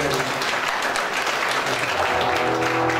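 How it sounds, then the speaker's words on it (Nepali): A Nepali church congregation claps loudly to welcome God at the start of a worship service, a dense and steady burst of many hands applauding together, close and unbroken for a few seconds. "सबैभन्दा पहिला हामी जोरदार तालीसँग हामी हाम्रो परमेश्वरलाई हामी स्वागत गर्नेछौँ"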